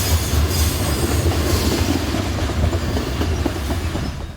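A train rolls along rails close by, a loud continuous rumble with rhythmic wheel clatter and faint metallic squeal, steady throughout and fading slightly at the end.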